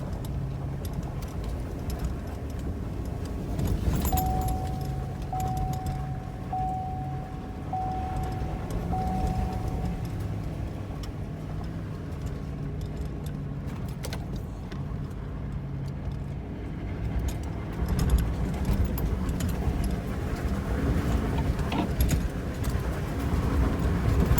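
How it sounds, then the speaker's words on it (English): A 2021 GMC 2500HD pickup with a 6.6 gas engine climbs a mountain off-road at night, carrying a load of fuel in the bed, heard as a steady low engine drone that swells and strains while the truck pulls uphill, with no talk. "here we go, climbing another mountain on night shift with the Chevy"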